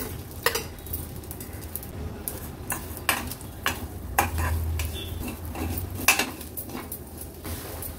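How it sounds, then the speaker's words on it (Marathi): Vermicelli and sago roasting in ghee in a pan, a soft sizzle under repeated clinks and scrapes of a spoon stirring against the metal, irregular and fairly close, no voices. "आता हे शेवया आणि साबुदाणे आहेत ते आपण ह्या तुपावर परतून घेणार आहोत"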